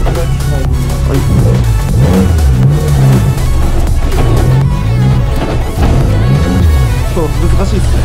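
Race car engine accelerating hard around a track with cones and white tyres marking the corners, a loud continuous roar with rising and falling revs as it shifts through the turns, close and dominant throughout.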